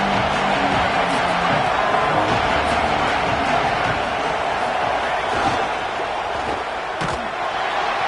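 A large stadium crowd in an NCAA/Madden football video game keeps up a continuous dull roar throughout, steady and broad, with a few faint thuds underneath.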